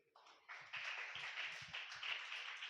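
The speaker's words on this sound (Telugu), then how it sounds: "చప్పట్లు కొట్టండి గట్టిగా." A church congregation claps hands loudly during a sermon, a dense sustained patter of many hands that rises after a brief start and carries on steadily without speech.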